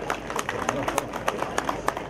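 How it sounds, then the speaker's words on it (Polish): A crowd at a Polish harvest festival applauds its guests with brisk, irregular clapping of moderate loudness heard from a short distance, with voices mixed in. "Jeszcze raz poproszę o gromkie brawa dla naszych gości"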